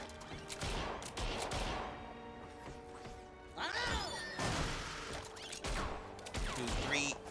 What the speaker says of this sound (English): So cool just how they just shoot.